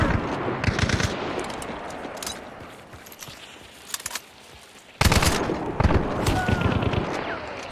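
Bursts of video game gunfire, including a Martini rifle shot, crackle in clustered volleys with quieter gaps between, then a sharp loud burst hits midway and rapid firing continues.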